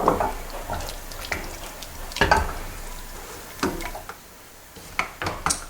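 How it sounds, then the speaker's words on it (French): Ravioles du Dauphiné and mussel soup with fresh thyme simmering gently in a pot, giving soft, low bubbling with scattered light clinks and splashes, fairly quiet and with no talking. "Doucement mijoter comme ça."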